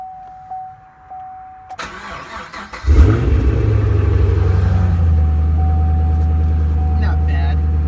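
A Chevrolet Camaro cranks and fires up on a cool 50-degree morning, a sharp starter whir giving way to a loud, steady idle rumble that settles and holds, with a voice briefly heard beforehand.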